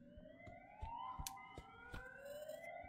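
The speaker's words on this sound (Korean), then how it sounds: "어 저 경찰 사이렌 소리?" A rising electronic siren wail sweeps upward over a busy soundscape in a Siren Head horror game, with sharp intermittent clicks and thumps, steady and fairly loud.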